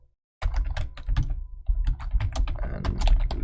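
Code typed on a computer keyboard, a close run of quick, uneven key clicks and taps after a brief silence, continuing densely to the end.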